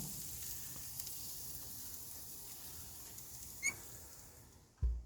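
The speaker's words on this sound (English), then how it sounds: "Alright, we're going to put it on for the sear." Sous-vide chuck roast searing on a hot surface for a char, a soft continuous sizzle that fades slightly, ending with a sharp clunk.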